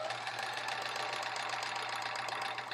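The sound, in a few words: 1970s Sears Kenmore sewing machine sewing fabric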